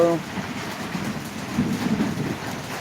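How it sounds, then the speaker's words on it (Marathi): Steady rain falls around a temple area in Wai taluka, Satara district, a dense, even hiss throughout with a low rumble beneath and faint voices mixed in. "सर्वत्र पाऊस पडतो"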